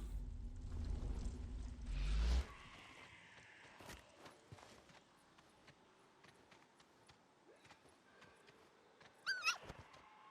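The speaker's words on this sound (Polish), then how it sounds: "O, szczeniaczek." A puppy in the video game Days Gone gives a faint, brief high whimper near the end, after soft footsteps and quiet rustling in a hushed space.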